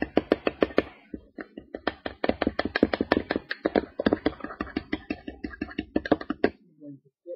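Ingredients being mixed for a pork sirloin dinner with lemon juice, heard as a fast, close run of rhythmic knocks and taps of a utensil against a bowl that stops abruptly, followed by a brief faint rustle.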